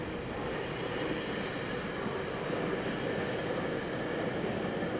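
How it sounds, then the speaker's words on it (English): A steady rumbling roar of a passing GO commuter train in Toronto with rhythmic clatter of wheels on track, continuous and moderately distant, no voices. "There's the GO train"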